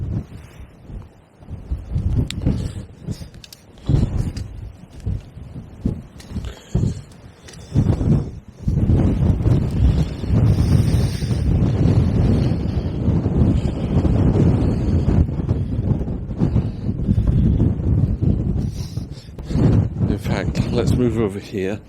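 Cold, blustery wind on a cliff top buffets the microphone in loud gusts and sustained roaring bursts, with a person's voice coming through at times.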